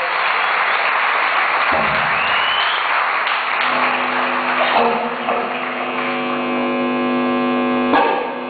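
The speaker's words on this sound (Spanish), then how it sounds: "Un aplauso muy fuerte," An audience claps and cheers at a live music show, the applause steady across the room while a loud electric hum drones beneath it and grows stronger toward the end.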